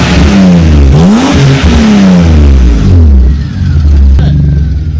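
A BMW E36 Compact engine revs hard and loud up close, its pitch repeatedly climbing and falling in a run of throttle blips.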